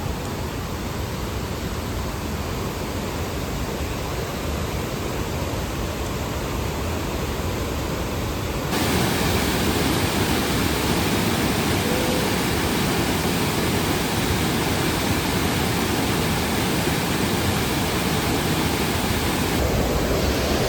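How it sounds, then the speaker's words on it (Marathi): Napane waterfall in the Konkan swollen by monsoon rain, a loud continuous roar of rushing water that grows stronger partway through, with no voices. "नापणे धबधबा, काचेचा पूल. हा बघा, पाणी वाढला भरपूर."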